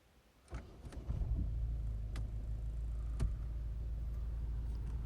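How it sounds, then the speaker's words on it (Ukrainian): Volvo V50 with a 1.6 diesel engine starting: a short cranking burst, then a steady close idle clatter with a low, even rumble, and a couple of faint ticks over it. "Автомобіль заводиться з пів оберту."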